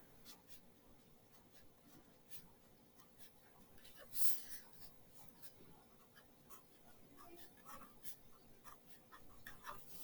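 A marker squeaks and scratches across a whiteboard in short strokes while a math problem is written out, quiet and close, with brief talk alongside.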